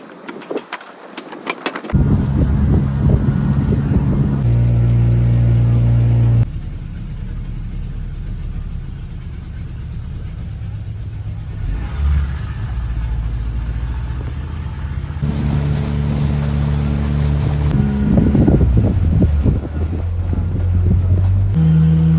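A boat engine drones loudly and continuously on the Madu River in Sri Lanka, with wind buffeting the microphone and occasional shifts in engine pitch as the boat moves along.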